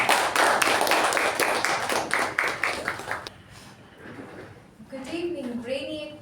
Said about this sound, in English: I would request you to give a huge round of applause for Toastmaster Sakshi.